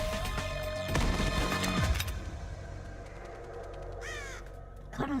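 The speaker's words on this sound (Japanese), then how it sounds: "カラス" Crows caw in the GameCube video game Metal Gear Solid: The Twin Snakes, their harsh calls surrounded by dense game sounds and crashes, with a voice briefly under the noise.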